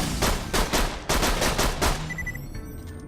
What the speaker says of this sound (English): I'm going to go ahead and start firing from the hip.